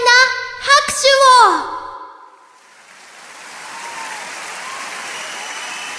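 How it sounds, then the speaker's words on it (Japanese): A voice speaks briefly, then a broad wash of applause rises from a large concert crowd and holds steady, moderately loud. "盛大な拍手を！"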